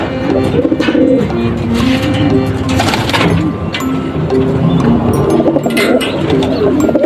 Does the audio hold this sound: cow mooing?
no